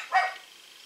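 A dog gives a single short bark, fairly close and loud, then quiet.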